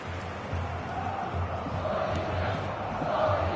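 Crowd noise from a football video game match, a steady broad stadium roar swelling slightly toward the end, with commentary-like voices faintly underneath.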